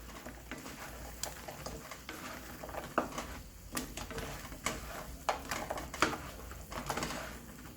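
Food being stirred and tossed through sauce in a pan over low heat, with soft scraping clatters and wet patters at an irregular rhythm, close and moderately quiet, no talking.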